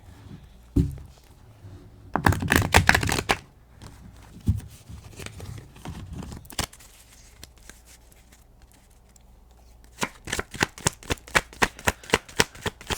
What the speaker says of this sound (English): But I am gonna shuffle.